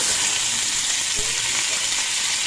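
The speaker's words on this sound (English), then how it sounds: "I'm cooking my steaks on medium high" Two New York steaks sizzle in a pan on medium-high heat, giving a loud, constant frying hiss with faint crackles and a brief utensil tap.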